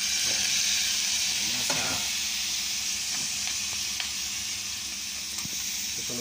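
Squash (kalabasa) frying in a pan gives off a steady, bright sizzle and hiss, with a few soft stirring scrapes and ticks scattered through it and no talking.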